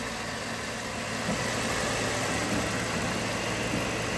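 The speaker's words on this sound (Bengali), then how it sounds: "গাড়িটার ইঞ্জিন কন্ডিশনটা আপনাদের দেখাবো এখন, ইঞ্জিনের সাউন্ডটা কেমন রয়েছে" A Toyota Corolla engine idles in a steady, even mid-pitched hum with faint vibration, close and unbroken throughout.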